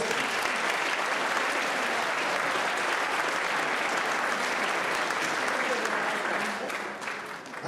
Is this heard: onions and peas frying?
no